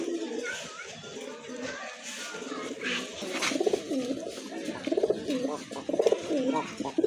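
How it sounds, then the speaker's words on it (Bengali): Pigeons at a pigeon farm coo repeatedly in soft, throaty bursts that grow more frequent toward the end, with people talking in the background. "বিগ সাইজের আরেক জোড়া কবুতর"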